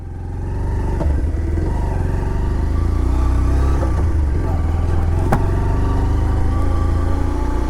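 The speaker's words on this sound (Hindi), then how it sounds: "बहुत ही स्मूथ है बाइक की इंजन" Bajaj Pulsar 125 Neon motorcycle engine running steadily while riding on an open road, a loud continuous low drone with wind rush and no talking over it.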